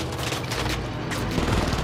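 Gunfire in PUBG, rapid muffled rounds popping in bursts over a constant rumbling game background, sounding somewhat distant with no clear single shot standing out.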